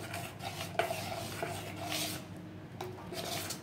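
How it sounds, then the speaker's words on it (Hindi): Idli batter being stirred with half a spoon of salt in a bowl, a steady soft scraping and swishing of spoon against the bowl, close and continuous with a few light clinks. "अब मैं इसमें आधा चम्मच नमक डाल के इसको अच्छे से मिला लूँगी इस तरह से"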